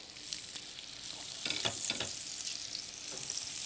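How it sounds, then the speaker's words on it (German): Hamburger patties sear hard in a hot pan, giving a steady, fairly loud sizzle with a few stirring or scraping touches and no talk. "30 Sekunden auf jede Seite ziemlich stark anbraten."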